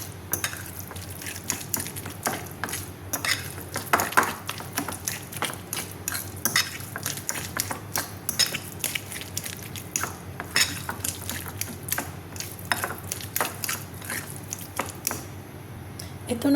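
Roasted eggplant being mashed into a smooth mutabal dip, giving steady soft squishing and scraping of utensil against bowl, with repeated small clicks and taps throughout, close and moderate in level.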